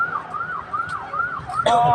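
A wailing emergency siren rises and falls repeatedly at moderate distance, with a sharp louder burst near the end.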